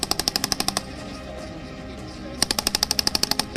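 Rapid automatic gunfire rattles out in two sharp bursts, separated by a short pause, during a joint Indian-Australian military exercise near Bikaner with tanks and Indian-made guns.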